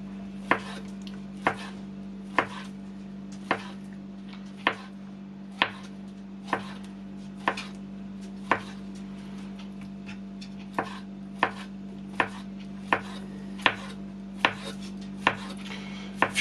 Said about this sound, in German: Schneiden wir jetzt einfach so Scheiben.